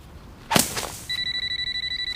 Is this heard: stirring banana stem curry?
no